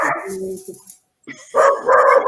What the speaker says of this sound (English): So there's the guard dog again. It's the guard dog.